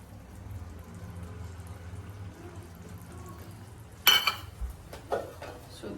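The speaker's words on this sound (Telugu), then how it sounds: "సో దీన్ని మనం ఒక్కసారి మిక్స్ చేసుకొని కుక్ చేసేసుకుందాం ఒక 2 minutes" Spoon stirring methi matar malai curry with chopped coriander in a pan, a quiet low simmer followed by a sudden scrape and a few sharp clinks of metal against the pan.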